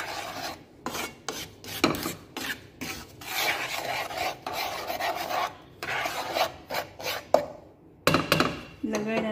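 A spoon scrapes and rubs against a bowl while polvoron ingredients are mixed, producing uneven, rasping strokes with brief pauses between them, close and fairly quiet.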